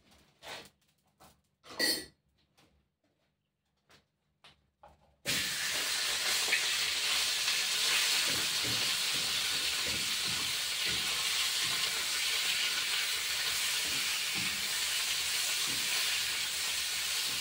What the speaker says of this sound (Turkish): Yeterince sıcak olmalı ki et güzel mühürlensin.